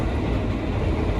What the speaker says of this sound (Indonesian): Ada kereta.